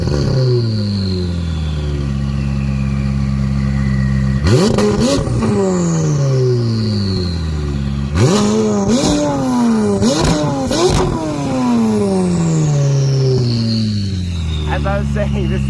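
A loud McLaren 620R engine with titanium exhaust idles, then revs sharply several times, each rev rising and dropping back, with a raspy exhaust note throughout.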